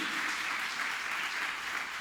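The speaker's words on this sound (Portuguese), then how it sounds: "Você pode dar um aplauso ao Senhor aí, que é o Deus da providência para a sua vida?" A church congregation applauds in praise, a steady, fairly soft roll of many hands clapping with no break.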